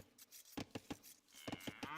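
A cow moos in Age of Empires, short repeated lowing calls in quick bursts amid small game clicks and effects, fairly faint.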